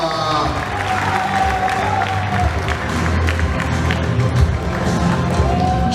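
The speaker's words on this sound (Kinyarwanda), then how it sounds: "Tumwongera amashyi menshi cyane Ruema" An audience at an award ceremony applauds a best upcoming actor winner, a continuous wash of clapping and crowd noise with a voice speaking over it.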